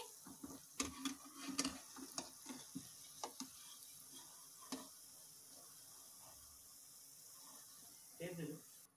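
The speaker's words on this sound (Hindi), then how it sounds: "अब इसे हम धीमे धीमे आंच पर पकना ही देंगे" Gunas, festive fried dough snacks for Gangaur, cook slowly in oil over a low flame, giving a soft sizzle with scattered clinks and scraping, now and then under a voice.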